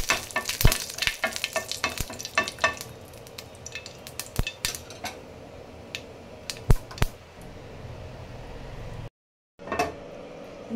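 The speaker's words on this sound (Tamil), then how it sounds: "கருவேப்பிலை போட்டுதான் நம்ம அதில் தாளித்து அதில் ஊற்றிட முடியும்" Curry leaves hit hot oil after mustard seeds have popped, tempering for a coconut-free chutney. They give a bright, crackling sizzle with sharp pops and spoon clinks that gradually settles, then a brief silence.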